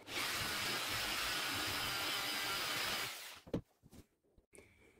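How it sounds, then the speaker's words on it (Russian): A felt polishing wheel on a spinning power tool buffs a homemade workpiece made from an old file with a loud, steady whir for about three seconds, then cuts off into a few faint knocks. "Вот есть фетровый кружочек, и берем, полируем нашу заготовку слегка,"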